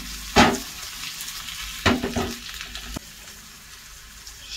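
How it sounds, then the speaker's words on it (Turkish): Onions go into heated olive oil in a pan, giving two sharp bursts of sizzling on contact followed by a softer, steady frying hiss with light stirring, close up and without talk. "Zeytinyağımız ısındıktan sonra şöyle soğanları üzerine ilave ediyoruz."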